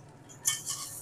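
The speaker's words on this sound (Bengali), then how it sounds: "এবার আমি এখানে মিশিয়ে দেব সব ভাজা সবজি, কাজু কিশমিশ সব কিছু" A spatula scrapes and clinks against a pan as fried vegetables, cashews and raisins are stirred into fried rice, a brief faint scrape with a small metallic tap.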